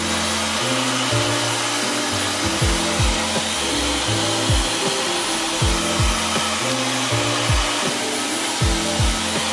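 A hair dryer blows loud and steady while a textured fringe is styled, its roar wavering as the airflow shifts, with rhythmic low pulsing and whine changes throughout.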